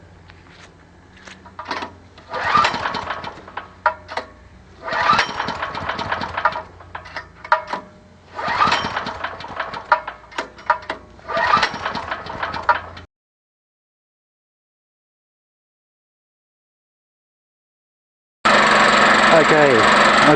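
A small engine on the homemade Gas O Matix 9000, leaking around the cylinder head, coughing and sputtering in several uneven bursts of rapid firing with pauses between, then dropping out before a steady, noisy run returns at the end.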